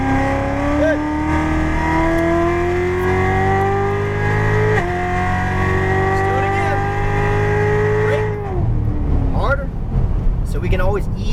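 Chevrolet Corvette Z06 Stingray engine on a race track, loud and close, pitch climbing steadily through several gears with brief drops at shifts, then easing off near the end while a coach talks over it.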